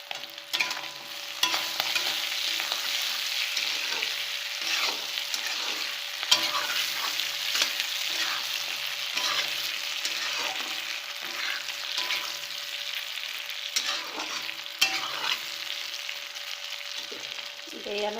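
Pork and bamboo shoots fry in a dry pan over medium heat, sizzling steadily with a few scrapes and stirs of a utensil, close and moderately loud with no talking.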